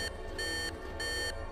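An alarm on a device in an animated undersea show gives three evenly spaced electronic beeps, each a bright steady tone lasting about a third of a second, over low background rumble.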